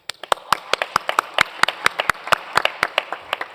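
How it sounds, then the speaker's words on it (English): Applause at the Brand Africa 2025 event for Africa's best brands: a small group clapping in sharp, distinct, fairly regular claps that carry on evenly with no voices. "I want you guys to give yourself a round of applause"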